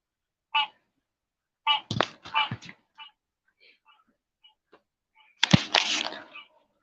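Fireworks go off outdoors at night: a few faint distant pops, then one sharp, loud burst with a crackling tail, after a voice speaks briefly.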